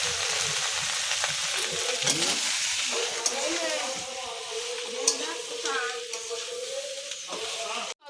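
Water poured onto ginger-chili paste frying in a pan gives a loud, steady sizzle and hiss that rises into bubbling. Occasional stirring scrapes sound throughout, and a quiet voice speaks underneath.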